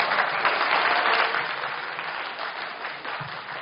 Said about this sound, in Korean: 구현상 교수님께 다시 한번 박수 부탁드립니다